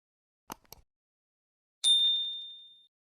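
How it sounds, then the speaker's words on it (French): Two quick soft clicks, then a single bright notification ding that rings clearly and fades out over about a second, with no voices around it. "d'activer la cloche de notification"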